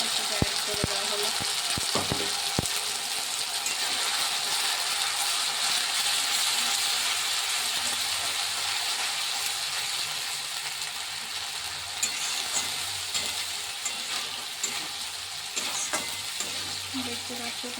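A paste of ginger, garlic, onion and dried chili sizzles and fries steadily in hot oil in a pan, with a continuous loud bubbling hiss throughout and a few sharp clicks near the start, for a chickpea curry.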